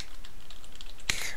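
A folder name is typed on a computer keyboard: a short soft patter of keystrokes ending in one sharper, louder key press, close and with no talking.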